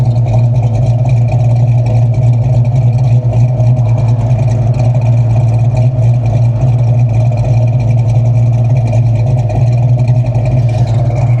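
A supercharged V8 Mustang Cobra engine idles steadily, loud and close, with a constant deep rumble and mechanical whine throughout; the car has a battery overcharging fault.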